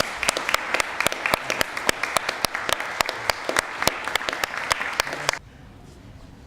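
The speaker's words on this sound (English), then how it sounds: "Let's give all our PTK people a big round of applause" Graduation-day honor society ceremony audience (Phi Theta Kappa, 2015) gives a round of crisp, fairly sparse clapping with distinct individual claps, which stops suddenly, leaving quiet room tone.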